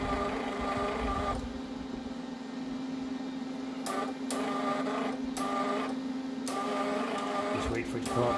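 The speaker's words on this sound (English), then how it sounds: "see how that's rolling now with the power on, and it's pulling the wire through" A MIG welder's wire feeder runs with a steady motorized hum as its rollers pull the welding wire through, a continuous whirring drone interrupted by a few brief clicks.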